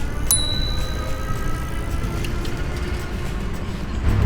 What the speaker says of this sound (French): Je n'avais jamais encore utilisé ma sonnette là. Bah là, je l'ai fait pour un dépassement